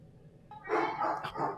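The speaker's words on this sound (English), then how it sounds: "The dog got mad at Max Muncy." A dog barks in a couple of quick, close, agitated outbursts, with rough yipping tones over low background noise.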